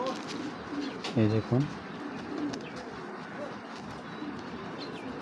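Racing pigeon gives a couple of close, low coos while being handled, heard around a brief stretch of talk against steady background noise.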